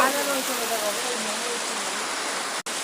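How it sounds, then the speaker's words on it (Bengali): Heavy rain pours down in Kozhikode, Kerala, under a darkened sky, making a dense, steady close hiss with no breaks and faint vocal traces near the start. "দেখো এত বৃষ্টি পড়ছে"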